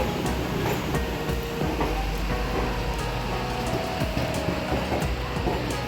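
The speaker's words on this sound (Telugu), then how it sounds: "ప్లాట్ఫారం మీదకైతే ట్రైన్ అయితే వచ్చేసిందండి" A train rumbles steadily alongside the number two platform at Vijayawada railway station, a continuous heavy roar with rhythmic clatter from the wheels and heavy rain hissing over it.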